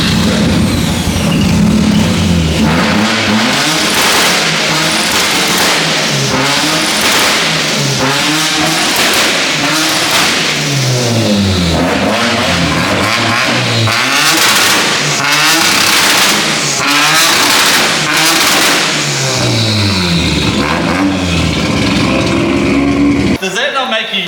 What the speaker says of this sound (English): I'm going to show you the two-step limiter on this thing